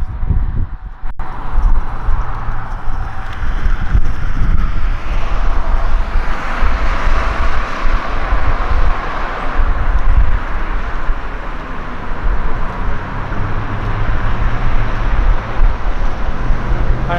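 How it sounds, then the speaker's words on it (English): Heavy, continuous low rumble of strong wind buffeting the microphone by the Great Miami River in Hamilton, Ohio, steady and loud throughout, with faint traffic noise mixed in. "it's super windy here"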